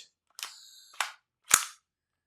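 A Tokyo Marui airsoft gas pistol gives a hissing gas release followed by sharp snapping shots, three bursts in about a second, close and fairly quiet with no talking.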